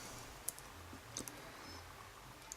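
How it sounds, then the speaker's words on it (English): Faint, sparse metallic clicks from pins inside a RobLocks challenge lock being picked, a few isolated ticks spread over a quiet, hissy background. "Pin number 4 is standing high to attention in the lock. It's going to want a good click in."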